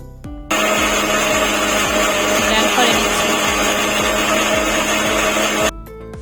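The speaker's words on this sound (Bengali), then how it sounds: "এখন এই ড্রাগন ফল, দুধ, চিনি এগুলোকে একত্রে ব্লেন্ডারে ব্লেন্ড করে নেব।" Kitchen blender whirring through dragon fruit, milk and sugar: a loud, steady motor whine that starts abruptly, holds for about five seconds with a churning texture, then cuts off.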